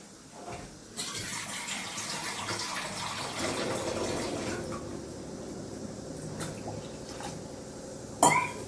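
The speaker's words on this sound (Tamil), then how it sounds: "நான் கொஞ்சம் தண்ணி ஊற்றிக்கிறேன்." Water pours steadily into a pot of horse gram rasam, a close, continuous splashing stream lasting several seconds, ending with a light clink.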